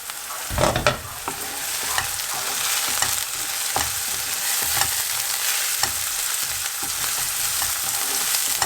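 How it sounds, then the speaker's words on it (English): Onions frying in a pan for a fenugreek and potato curry, a continuous crackling sizzle with a few sharp utensil clinks and stirring scrapes near the start. "Then we're gonna add the onions, and we're just gonna fry them until they've softened a bit"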